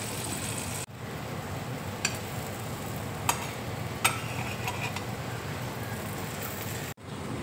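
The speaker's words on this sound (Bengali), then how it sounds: "এবার আমি পাউরুটিটা দেখো ভেজে নিচ্ছি" Bread frying in melted butter in a frying pan, a continuous soft sizzle with a few brief crackles and clicks, close and steady.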